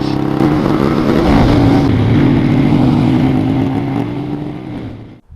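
Motorcycle riding along a road toward a bridge at sunset, its engine a steady loud drone with wind rush throughout, easing off slightly near the end before cutting out abruptly.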